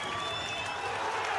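A boxing arena crowd cheering and applauding in a loud, dense roar of clapping and voices that holds steady for the whole moment.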